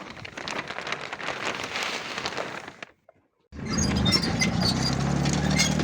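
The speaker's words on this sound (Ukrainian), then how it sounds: "Почав моросити дощ." Light drizzle patters steadily outdoors on a rural plot during barley sowing. The hiss is dense and continuous, breaks off briefly, then returns with a low engine rumble underneath and no speech.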